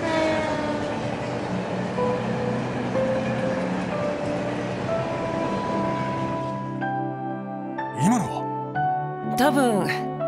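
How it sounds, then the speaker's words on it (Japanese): At night in the video game Trails from Zero, a train rolls past with a loud, dense rumble and ringing tones that cut off sharply, followed by short voiced game sounds and a few lingering tones. "多分共和国方面の最終列車ってところじゃない？"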